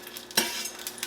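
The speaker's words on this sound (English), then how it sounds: "You hear that nice sizzle?" Onion, celery and fresh garlic dropped into hot olive oil, a sudden bright sizzle that bursts up and then hisses steadily, with faint clinks of a utensil stirring nearby, quiet and close.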